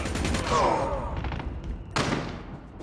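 A burst of rapid gunfire rattles in Call of Duty Mobile, several sharp shots close together, followed by another loud shot a moment later.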